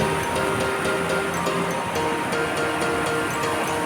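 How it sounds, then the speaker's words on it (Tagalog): Strong river current rushing near an old bridge in Tayabas, Quezon, a steady broadband roar of flowing water filling the whole clip with no break. "Ang lakas, ang lakas ng agos, oh."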